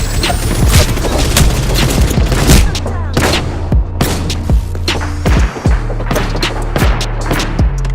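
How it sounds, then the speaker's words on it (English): A frag grenade explosion in the Apex Legends battle royale game lands among dense game-combat sound: repeated sharp booms and impacts over a steady low drone, with rapid bursts throughout the clip and no talking. "Frag grenade."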